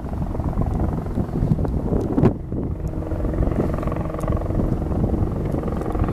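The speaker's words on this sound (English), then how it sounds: "Well, looks like a Euro chopper." A Eurocopter helicopter flies near an airport on a cold, wet day, its engine and rotor making a steady, dense low rumble with wind buffeting the microphone.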